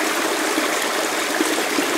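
Water tipped from a gold pan onto the top of a sluice, a steady broadband splashing pour that runs evenly for the full two seconds with no voices.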